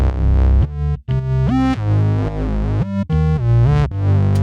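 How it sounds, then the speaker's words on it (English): Warm, tape-saturated synth bass processed with Bad Tape and layered with a Rickenbacker bass sound, playing a loud, gritty riff of sliding notes with brief breaks between phrases. "It's actually the Rickenbacker bass."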